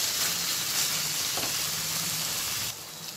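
Onions, mint and ginger garlic paste fry in a pan for egg dum biryani, giving a steady, close sizzle that drops off slightly near the end.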